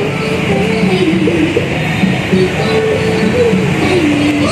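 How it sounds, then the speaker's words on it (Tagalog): Light rail LRT train in Pasay, a steady loud rumble of rolling cars with faint wheel squeal and clatter running continuously throughout, close by. "Ito yung LRT na to."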